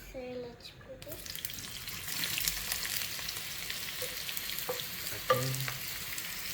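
Onion fries in hot ghee with a constant, close sizzle, broken by a few stirring scrapes and clinks of a utensil against the pan.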